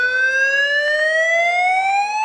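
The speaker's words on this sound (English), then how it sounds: "The most common response to hearing a fire alarm or any sort of emergency alarm is to ignore it." An emergency siren wails on its own, a steady rising electronic tone with strong harmonics that sweeps slowly upward, loud and close throughout, with no voices.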